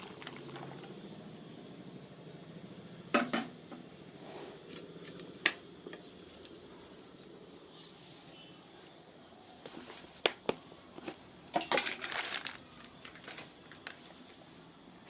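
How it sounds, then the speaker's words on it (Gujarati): A hand whisk churns boiled dal in a pot, making quiet irregular clicking, swishing and rattling bursts that come and go, close but soft, with no talking. "તો આપણે આ દાળ બફાઈ ગઈ છે તેમાં આપણે આ ઝેણી ફેરવી નાખશું"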